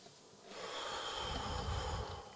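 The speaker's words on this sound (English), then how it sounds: "I hear you breathing." A caller breathes heavily on a phone line, one long, rushing, snort-like exhale at close range, muffled and low-fidelity, with no words spoken.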